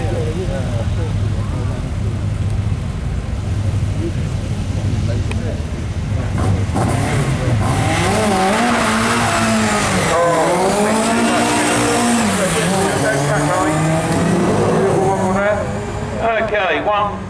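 Race car at the Brighton Speed Trials sprint, loud and close, its engine note climbing steeply through rising revs as it accelerates away, with a commentator's voice and crowd ambience underneath.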